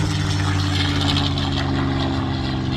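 A propeller airplane at an airshow roars overhead with a loud, steady, throbbing engine drone and dense broadband noise throughout, no voices.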